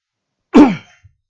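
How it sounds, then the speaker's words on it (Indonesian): A single sharp cough-like throat clear bursts out loud and close in a quiet room, followed by a tiny soft catch a moment later. "saya ini agak batuk-batuk"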